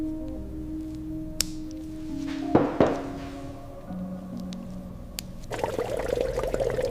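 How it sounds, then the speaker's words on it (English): Fresh coolant is poured into a Nissan GT-R's V6 engine in a workshop, with faint liquid trickling and a short splashing burst partway through. A steadier pouring flow follows near the end. "Flushing the old lifeblood, fresh glossy coolant flows in, ensuring this V6 stays cool under the coming pressure."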